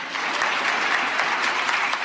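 An audience breaks into loud, dense applause, a continuous wash of many hands clapping that stays even across the whole stretch.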